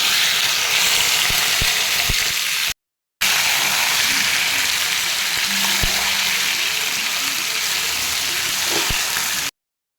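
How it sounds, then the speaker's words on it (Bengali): Marinated chicken tipped into a pan of fried onions and bay leaf sizzles loudly and steadily, a close, dense frying hiss with occasional stirring clinks, cut by two brief silences. "এবার দেখো ম্যারিনেট করে চিকেনটা ঢেলে দিচ্ছি"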